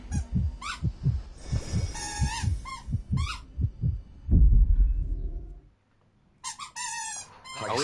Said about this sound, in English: Always makes me nervous when I hear heartbeat noises.